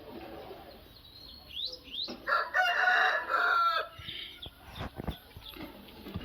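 Rooster of the chilakamukka breed crowing on a farm, one loud drawn-out crow close by amid soft clucks and chirps from other fowl.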